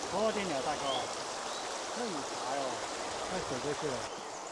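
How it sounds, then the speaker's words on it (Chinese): Rushing, fast-flowing mountain river in the Sichuan hills makes a steady broadband roar that fills the whole clip, with voices speaking over it throughout. "这个河水我感觉非常的湍急啊"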